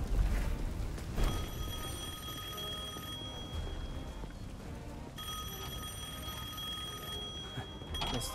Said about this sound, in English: Guess the phone still works.